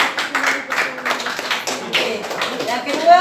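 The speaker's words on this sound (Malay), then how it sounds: "tepukan." Students in a classroom clap together in brisk, dense applause lasting a few seconds, with a voice talking over the clapping.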